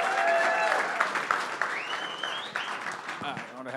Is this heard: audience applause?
yes